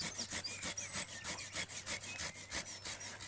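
A hand saw cuts through an apple tree branch in steady back-and-forth strokes, a rhythmic rasping close by with no talking.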